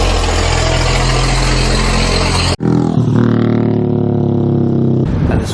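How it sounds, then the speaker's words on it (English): Loud, close road traffic in Agios Stefanos with cars and motorcycles: a heavy engine drone with strong low harmonics, then after an abrupt break a second engine rumbling and revving nearby, no talking. "And this is what I mean about traffic."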